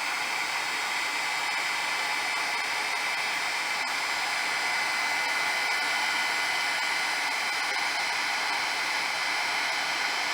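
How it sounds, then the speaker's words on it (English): A Martha Stewart hair dryer blows a steady, even rush of air over silver embossing powder on a card, loud and close with no break for about ten seconds, and no talking. "Now we use a Martha Stewart hair dryer and dry this up."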